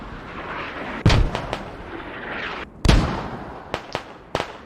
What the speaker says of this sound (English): Using their own mortars to destroy the radio.